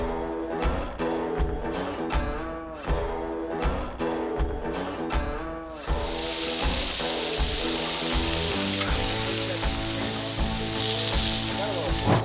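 Seasoned fresh fish hits hot oil partway through, and a loud, steady frying sizzle takes over after a stretch of music that plays throughout underneath.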